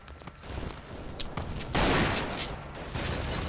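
Rapid bursts of gunfire in the video game AustroXD, repeated sharp shots building into a dense, loud volley midway and continuing to the end.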